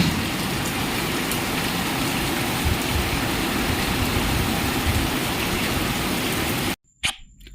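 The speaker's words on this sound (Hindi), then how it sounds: "खूब तेज़ बारिश हुई है" Heavy monsoon rain pours down in Punjab, a dense, loud, steady hiss that fills every moment, then cuts off abruptly near the end, followed by a brief sharp knock.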